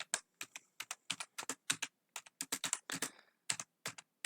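A search query typed on a computer keyboard: a steady run of crisp, close keystrokes with short pauses between small clusters, alone in an otherwise quiet room.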